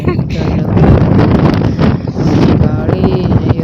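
Strong wind buffets a hillside and roars steadily across the microphone, loud and unbroken, with a voice talking faintly beneath it.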